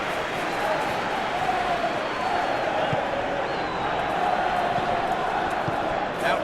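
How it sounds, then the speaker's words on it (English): A simulated stadium crowd in a PES 21 FA Cup match between Manchester City and Liverpool gives a dense, steady roar of applause and murmur that fills the whole stretch, with a commentary voice faintly underneath. "it's applause all around us here"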